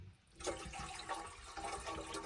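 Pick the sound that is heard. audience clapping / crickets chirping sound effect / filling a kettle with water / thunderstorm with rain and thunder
filling a kettle with water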